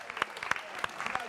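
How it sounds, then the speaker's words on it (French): A short burst of scattered hand claps, a few sharp slaps spaced apart, with a voice talking over them during a French-language show. "On l'applaudit."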